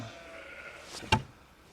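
Sheep in a shed give a single short bleat near the end, fairly close and distinct above a quiet indoor background.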